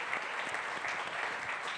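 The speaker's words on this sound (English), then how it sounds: "So a big round of applause for" Festival audience at an Explorers Festival talk gives steady, even applause, a dense wash of clapping at moderate distance with no pauses across the short stretch.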